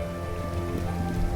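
A dense, steady patter of small hard pieces drumming on a surface, constant and fairly loud throughout.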